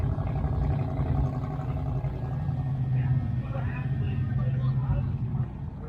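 Hemi-powered drag racing car engine at a drag racing event, a loud, steady low rumble throughout with people talking over it.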